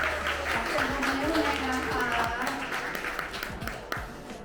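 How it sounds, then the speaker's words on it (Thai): Audience applause at a Wilier bicycle launch event in Thailand, a steady wash of clapping from a crowd, moderately loud, with some voices mixed in. "ขอเสียงปรบมือเรยเชิญบนเวทีเลยครับ"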